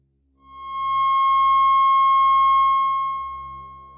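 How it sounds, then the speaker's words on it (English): Pure electronic sine tones sound together as an F sharp major chord. The sustained, clean chord fades in after a brief silence, holds steady, then tapers off softly, with no other sound. "these tones just happen to create the most beautiful form of music, a perfect 3-part major chord in the key of F sharp"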